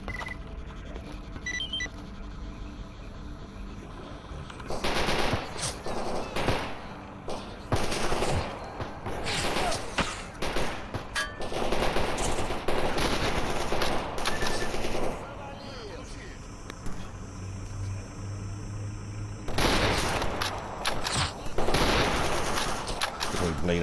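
Video game gunfire during a fight with bandits comes in loud bursts of rapid shots separated by brief quieter gaps, with distant shots and faint in-game noises in between.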